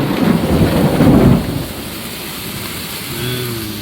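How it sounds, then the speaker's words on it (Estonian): Thunder rumbling during a thunderstorm on an outdoor hiking trip, a loud low roll for the first second and a half that fades into steady rain hiss, with a faint tonal whine near the end. "Välka lööb ja."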